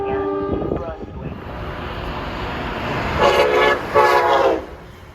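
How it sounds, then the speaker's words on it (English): Amtrak light engines approach on track 1 at Princeton Junction, sounding a loud horn in two strong blasts after a brief earlier toot, over a steady rail rumble. "439 coming up track 1 is something interesting. Looks like some light engines, Amtrak engines."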